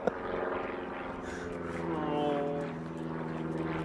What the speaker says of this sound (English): Another damn plane.